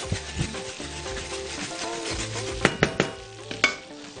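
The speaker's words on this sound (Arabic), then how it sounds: "فلفل اسمر مجروش، نحمص كل ده مع بعضه." Crushed black pepper with minced garlic toasts in a pan, a soft steady sizzle broken by several sharp utensil taps and stirring scrapes near the end.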